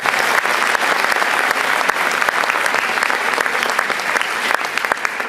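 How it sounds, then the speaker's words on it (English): Sustained applause from a concert audience at a school winter band concert, thick even clapping with occasional louder individual claps, continuing without letup. "Give her one more round of applause."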